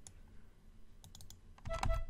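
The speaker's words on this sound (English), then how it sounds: "I'm actually gonna press P on the keyboard to pull up the pointer." Quiet clicks of a computer keyboard as keys are pressed while working in FL Studio, a few sharp taps spaced apart and then a louder cluster of clicks near the end.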